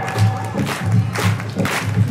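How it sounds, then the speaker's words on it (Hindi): A devotional bhajan gathering claps along in a steady rhythm, a crowd's hands beating out roughly regular pulses over the ongoing music and singing. "ताली बजाओगे जरा"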